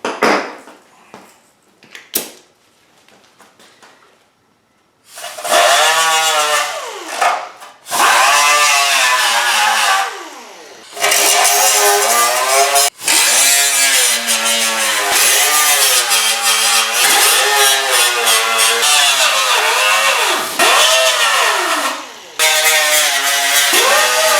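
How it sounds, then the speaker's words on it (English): A power sander grinds metal on the core support of a 1987 Oldsmobile 442 in a series of loud, close bursts separated by short pauses, its whine rising and falling as pressure changes. "So, first, let's get that stuff sanded down so I can make some welds on them."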